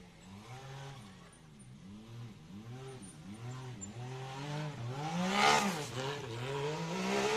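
Can-Am UTV climbing a steep, rutted hill in a UTV racing event, its engine revving hard and rising and falling repeatedly, loud and fairly close throughout.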